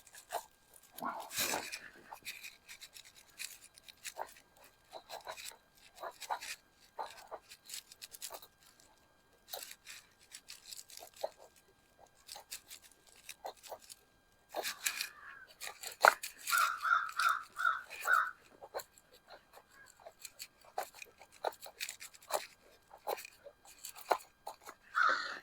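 A Victorinox RangerGrip 79 knife carving soft wood, heard as irregular dry shaving scrapes and crunchy cuts, close up, in short bursts separated by quiet pauses.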